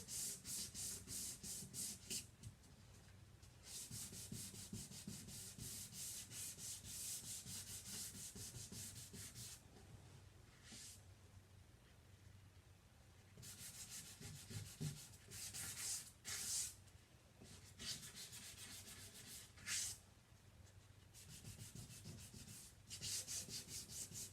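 Hand sanding of a wooden sign with sandpaper, heard as close, loud back-and-forth rasping strokes in repeated bursts, with short pauses between passes and no talking.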